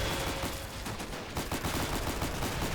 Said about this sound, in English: Lots of gunfire going off here.